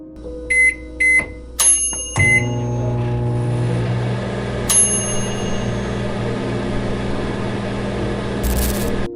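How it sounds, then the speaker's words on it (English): A few quick electronic beeps near the start as microwave oven buttons are pressed, followed by a steady low hum and faint rattles. "he suddenly heard the microwave buttons being pressed"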